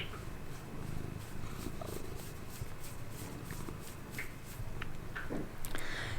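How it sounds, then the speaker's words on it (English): Domestic cat purring close to the microphone, a soft continuous rhythmic rumble with faint rustling and small shuffling sounds. "Cat interruption."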